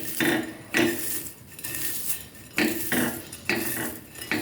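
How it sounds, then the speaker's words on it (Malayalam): Fried onions being crushed into powder with repeated scraping and grinding strokes against a metal vessel, rhythmic and close, with regular gaps between pushes. "എല്ലാം കൂടെ നന്നായിട്ട് നമുക്കൊന്ന് പൊടിച്ച് വെക്കാം."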